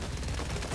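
Automatic turret firing in the video game Helldivers 2, a dense, steady burst of loud gunfire filling the whole moment with no pause.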